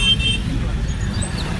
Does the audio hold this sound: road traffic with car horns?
yes